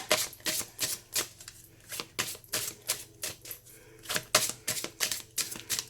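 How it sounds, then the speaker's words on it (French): Oracle cards are shuffled by hand at close range, giving a rapid, uneven run of sharp papery riffles and flicks that continues for six seconds without any speech. "Donc je mélange bien et ensuite on piochera 3 cartes de cet oracle."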